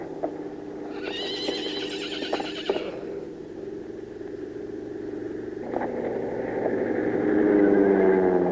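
A horse in a 1937 western about a wild horse rodeo gives two loud, shrill whinnies, the first shaky and high, the second longer and lower, with faint hoof and rumble noise between.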